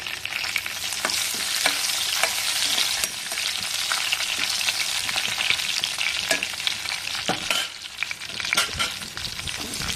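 Curry leaves and green chillies fry in hot oil for a curry with dried prawns. A loud, dense, continuous sizzle and crackle fills the whole stretch close by, with occasional stirring scrapes and no talk.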